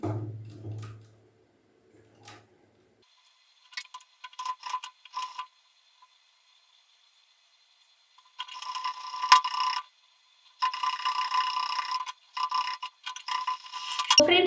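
A sewing machine stitching along a line on a ready-made blouse hook-and-eye strip: near-silence with short mechanical bursts, then longer rapid whirring runs near the end.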